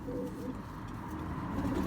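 Racing pigeons coo softly in a loft, a low, continuous murmur of throaty calls at a moderate distance with no talking.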